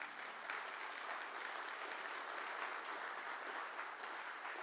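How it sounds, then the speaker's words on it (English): Applause from the audience at a university spring town hall, a steady wash of many hands clapping at an even level throughout, soft and somewhat distant. "Yeah, I would clap for that."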